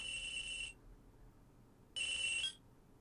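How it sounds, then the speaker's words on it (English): A phone ringtone from the Apollo Justice: Ace Attorney video game sounds twice: a loud, bright electronic trill lasting about half a second, a short pause, then a second identical burst. No voices. "Oh, phone call?"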